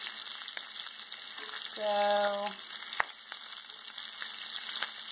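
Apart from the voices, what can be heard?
steaks frying in a pan with garlic and thyme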